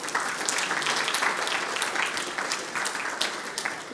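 Church congregation giving a round of applause, dense steady clapping from many hands at close range, fairly loud and unbroken for a few seconds with no speech over it.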